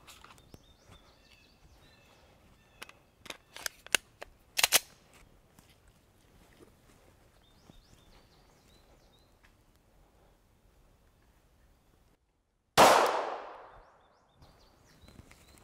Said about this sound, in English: All right, let's keep shooting.